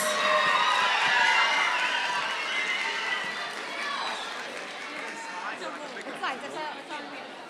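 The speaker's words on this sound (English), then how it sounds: "Let's give them another big round of applause" School assembly audience cheering and chattering after a round of applause, a loud burst of crowd noise that gradually fades into scattered voices and whoops.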